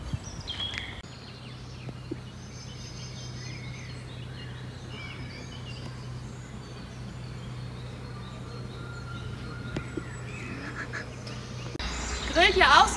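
Ducks quack here and there on a park pond over a steady outdoor background with a low hum, growing louder and busier near the end.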